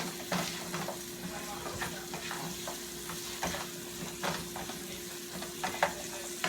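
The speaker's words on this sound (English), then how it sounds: "Cooking these onions up." Onions cook in a pan for a soul food hamburger steak, with a steady close sizzle and repeated scraping stirs throughout, alone without talk.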